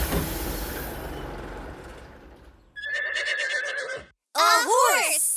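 A cartoon horse in a children's show gives two bright, whinnying neighs, the first a buzzing tremolo and the second a rising and falling call, close and clear after a fading rumble of the bus.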